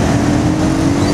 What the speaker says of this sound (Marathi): काय ट्रॅफिक लागतं.